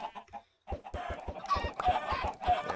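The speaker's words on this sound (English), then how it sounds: "So, I can breed the chickens." Minecraft chickens cluck in a rapid run of short clucks, loud and close. The clucking starts again after a brief silence, with no voices.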